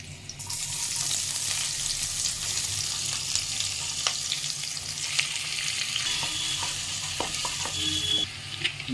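Fresh green chilies dropped into hot oil in a pan for a cauliflower and paneer curry crackle and sizzle in a loud, steady hiss, close up with scattered pops and a few utensil clicks toward the end, no voices.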